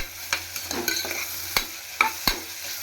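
Green chillies and onion sautéing in a pan, heard as close spatula scrapes and taps at an uneven pace over a light sizzle, with no voices.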